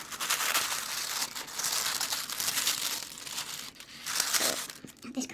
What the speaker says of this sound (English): This crinkling, it drives me crazy.